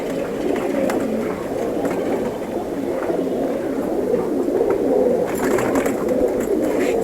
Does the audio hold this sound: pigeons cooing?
yes